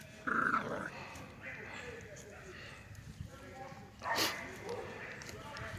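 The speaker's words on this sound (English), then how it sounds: "All that growling" Kennel puppies growl and snarl in rough play, close and steady throughout, with voices talking and occasional footsteps under the growling.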